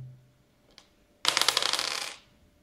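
Two dice rattling and tumbling across a tabletop during a tabletop wargame, a short burst of rapid clattering taps that settles within about a second, close and fairly loud with no talk.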